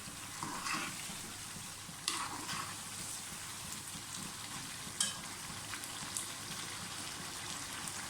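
Potatoes and chicken for aloo chicken shorba fry with a steady broadband sizzle, broken by a few sharp scrapes and clinks of stirring at irregular intervals; no one speaks.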